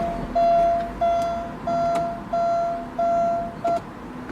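An electronic beep repeats six times at a steady pace inside a 1989 Porsche 944 Turbo S, each tone sustained and clear, the last one cut short.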